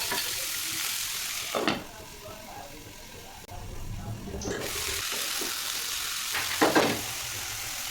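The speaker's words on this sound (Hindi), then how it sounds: "यहाँ पर जो मैंने फली फ्राई की थी" Green beans (phali) fry and sizzle in a pan on a home kitchen stove, a steady crackling hiss with a couple of brief stirring clatters, interrupted by a short quieter pause before the frying resumes.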